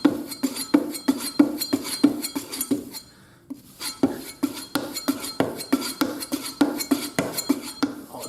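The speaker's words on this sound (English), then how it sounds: "what we need to do is take all the rubbish off the knife and give it a shine" A kitchen knife is stropped on a leather buff stick to polish the blade, giving a steady series of crisp rhythmic strokes and light metallic scrapes with a brief pause midway, close and moderately loud.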